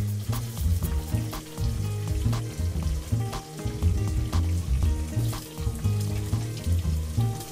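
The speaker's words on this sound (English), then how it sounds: "Now this is in here, frying up nice." Potatoes sizzle and crackle in a hot pan, a steady close frying hiss with occasional pops and clinks of a utensil.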